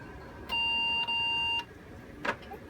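A veterinary lab analyzer gives a clear electronic beep, two sustained tones back to back with a tiny gap, followed by a brief faint click against a quiet room background.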